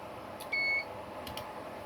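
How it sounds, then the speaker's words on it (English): A calibrator sounds a safety warning while outputting over 50 volts to a Fluke multimeter: a single short, clean electronic beep, moderately loud over a quiet background hiss. "And beeping again because we're over 50 volts. Just a bit of a safety warning from the calibrator."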